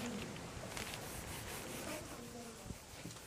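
Paper being rubbed by hand over the back of an inked turtle print block, a soft steady scuffing and brushing texture with a few light taps near the end, close and quiet.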